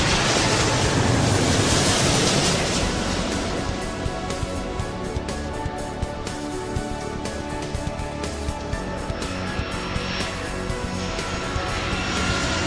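A jet aircraft engine in the Airport Madness 3 video game spools up and roars steadily as it gains speed, a loud, broad sustained rush with a brief higher swell early on, alone without talk.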